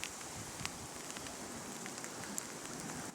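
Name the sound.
hail falling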